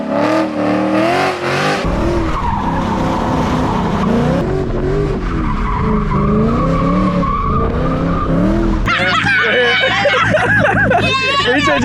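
A yellow Ford Mustang does donuts in a parking lot, its tires squealing and skidding in wavering, drawn-out tones over a revving engine. Voices talk through much of it, and the sound shifts sharply near the end.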